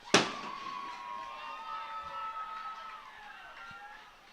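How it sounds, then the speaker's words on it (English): Fireworks burst at a high school football game with one sharp loud bang followed by a long fading whistling crackle, set against open-air stadium ambience. "Fireworks bursting over to our right."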